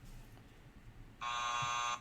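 A game show buzzer sounds once, a loud steady electronic tone held for under a second against a quiet room.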